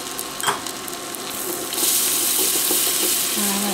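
Garlic and red pepper flakes sizzle steadily in a hot pan for shrimp scampi, the frying growing louder and brighter partway through while a utensil stirs, with a brief clatter near the start.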